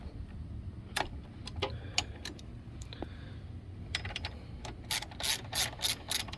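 Ratchet breaking free the bolts on a foot peg bracket of a Kawasaki Vulcan S 650 motorcycle, a run of quick, close clicks in bursts that grow louder and denser toward the end.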